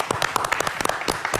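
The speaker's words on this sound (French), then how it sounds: "30 secondes d'applaudissements." Brief burst of applause from a studio audience during a radio-style show, a dense run of close, uneven hand claps.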